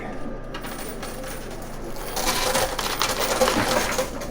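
Quarters clatter and spill inside a high-limit casino coin pusher machine, a quieter metallic trickle that swells about halfway through into a dense, loud run of clinking coins.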